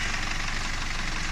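An Audi engine with a knocking fault runs steadily in a workshop, a continuous low rumble with a dense, rattly texture that stays constant and fairly loud throughout, with no voices.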